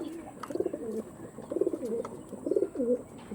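Tournament-quality pigeons coo close by in a series of rhythmic, throaty rolling phrases, each rising and falling, repeating several times against a quiet background.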